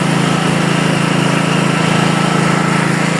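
A petrol generator engine runs close by with a loud, steady, pulsing drone, its rapid regular beat holding even throughout and no speech over it.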